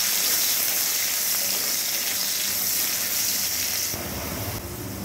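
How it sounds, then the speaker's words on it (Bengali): Finely chopped carrots frying in oil used for frying pakoras, a steady dense sizzle and hiss that runs without a break and eases slightly near the end, with no talking. "পকোড়া ভাজা তেলের মধ্যে দিয়ে দিচ্ছি বেশ কিছুটা পরিমাণে গাজর"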